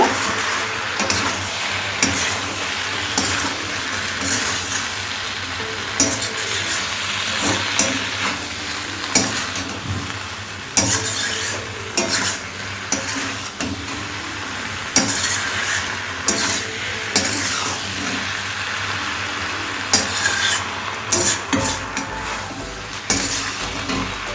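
Malabar spinach and prawns being stirred in a pan with salt and sugar, a loud close sizzle under repeated scraping and clinking of a spatula against the metal, steady throughout with no voices.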